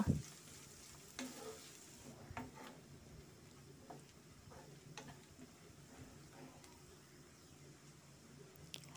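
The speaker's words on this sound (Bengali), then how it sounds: "এবার নেড়ে চেড়ে হালকা করে একটু ভেজে নেব" Chopped onion with cardamom and cinnamon being stirred and fried in a pan, with quiet sizzling and intermittent spatula taps and scrapes at a fairly faint level.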